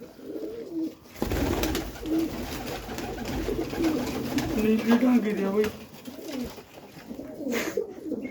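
Flying pigeons coo repeatedly at close range, soft throaty calls rising and falling while someone talks over them throughout.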